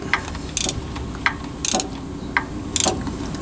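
Oil pressure sensor being threaded into a 1997–2004 Ford F-150 engine by hand, giving repeated short ratchet-like clicks in small bursts over a low background hum.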